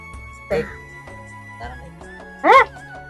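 A dog near a home gives two short, sharp barks, the second louder, amid people talking nearby.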